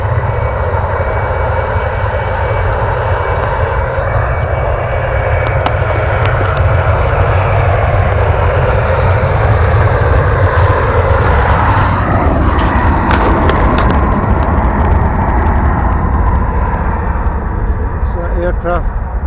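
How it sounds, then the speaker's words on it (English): An aircraft engine roars steadily as a plane takes off at an airfield in Glasgow, UK, a loud continuous drone with constant wind and engine rumble throughout. "Aircraft taking off."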